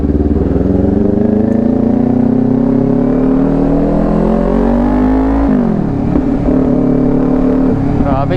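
Kawasaki Ninja 400 motorcycle engine running loud and close, revs rising steadily in a long climb, then dropping and blipping back up in quick throttle bursts.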